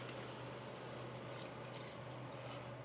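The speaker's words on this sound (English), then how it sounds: "So here we have water pouring all over the floor." Water pouring steadily onto a floor, a continuous soft splashing rush with a low steady hum beneath it, quiet and unbroken with no voices.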